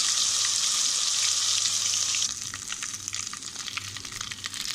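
Ginger garlic paste hits hot oil in a pot with a bright, hissing sizzle that is loud at first, then settles into a softer crackle with scattered spatters.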